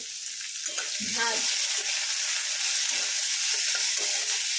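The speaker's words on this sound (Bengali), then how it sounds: "এবার এটাকে নরম করে ভেজে নেব।" Two medium chopped onions frying in a pan for upma: a dense, continuous loud sizzle close by, with occasional low stirring bumps underneath and no voices.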